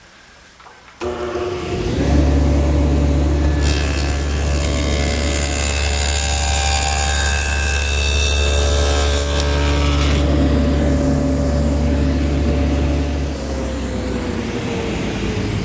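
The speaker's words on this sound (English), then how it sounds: "I've set up my table saw with my dado head cutter for a 5/8 width and a 1/4 inch depth" Table saw fitted with a dado head cutter starts up with a loud steady whine, then cuts a 5/8-inch-wide, 1/4-inch-deep dado in a wooden gusset, rising into a harsh roar as the wood is fed through before settling back to the idling hum.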